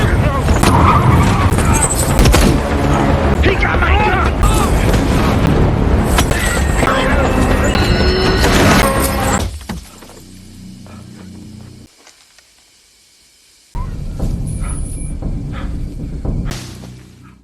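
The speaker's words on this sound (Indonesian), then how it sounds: "Hal itu menyebabkan mobil yang ditumpanginya menabrak pohon di hutan." A car veers off and smashes into a tree in a forest during a film chase scene, with loud engine roar, skidding and crunching impact noise that drops away into near silence before a sudden burst returns.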